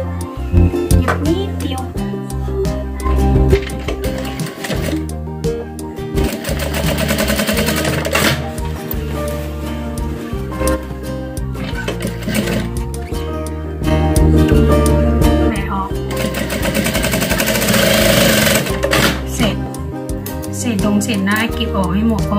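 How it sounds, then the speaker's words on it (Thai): A sewing machine stitches fabric for a bag in bursts of rapid mechanical whirring and clatter, starting and stopping repeatedly while someone talks throughout. "จับตัวนี้มาแล้วก็มาเย็บนะคะเพื่อนๆเย็บนิดเดียว"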